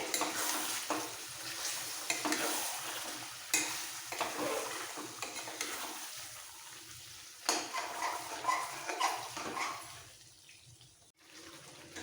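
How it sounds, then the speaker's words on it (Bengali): Chicken coated in whisked sour yogurt is stirred and fried in a pan for chicken posto, with a soft continuous sizzle and repeated scraping strokes of a spoon, fading quieter toward the end. "দই দেওয়ার পরে আরও দু মিনিট কষিয়ে নিতে হবে"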